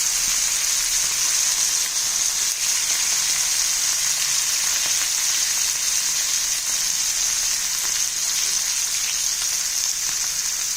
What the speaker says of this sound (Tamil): இப்போ உப்பும் மஞ்சத்தூளும் போட்டு ஊற வச்ச கருவாடை முதல்ல சேர்த்துடலாம்